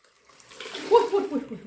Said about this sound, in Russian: Итак, я аккуратненько буду процеживать.